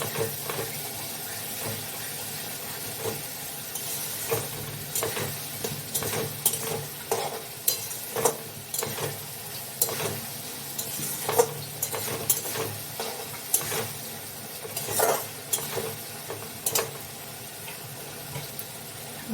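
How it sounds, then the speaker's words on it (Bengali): Spice paste is stir-fried in oil until the oil separates, with a soft, continuous sizzle broken by repeated scraping strokes of a spatula against the pan and no talking. "এবার এটা ভালো করে কষাতে হবে, যতক্ষণ না মশলা থেকে তেল থাকে।"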